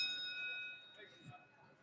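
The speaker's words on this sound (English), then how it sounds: "vote aye when the bell rings." Voting bell in a state House chamber during a floor session, a steady electronic ring sounding for about a second before stopping, fairly faint under room murmur.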